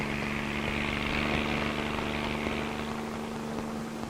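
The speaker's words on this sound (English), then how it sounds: "Helicopters bring small suppression crews close to an outbreak." A helicopter flies over a forest fire area, carrying a suppression crew, its engine and rotors making a loud, steady droning hum with a constant low tone that holds evenly throughout.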